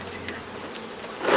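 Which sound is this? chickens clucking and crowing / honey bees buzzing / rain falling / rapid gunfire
honey bees buzzing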